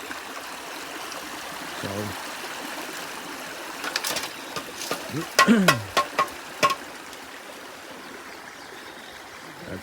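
A river flows steadily in a steady wash near a gold-prospecting sluice setup in Wisconsin, with a few sharp clanks and splashes partway through and a brief spoken word at the start.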